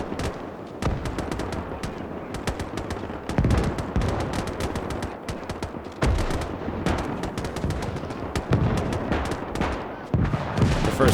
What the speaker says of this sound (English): Now the machine guns. The riflemen are opening up.